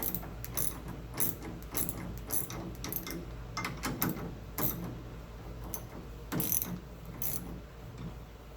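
A ratchet wrench tightens a nut on the sway bar of a 1970 VW Bus, giving irregular bursts of close metallic clicking and creaking with short pauses between them.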